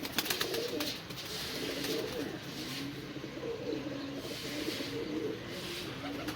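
Pigeons coo in repeated low, throaty phrases nearby, a pair of birds with the female just off her eggs, with faint background noise and no talk.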